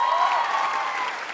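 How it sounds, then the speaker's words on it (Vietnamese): A studio audience claps steadily after a dance performance on a televised dance competition, a dense short wash of applause with a sustained tone blended in. "Một tràng pháo tay cho Tố Tố và Đinh Lộc."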